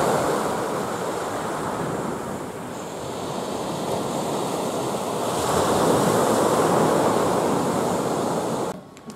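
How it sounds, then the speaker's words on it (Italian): Sea surf rolls steadily onto the coast at Levanto, Liguria, a loud continuous wash with wind buffeting the microphone that swells midway, then cuts off abruptly at the end. "Tentiamo anche di fare una ripresa del mare qua"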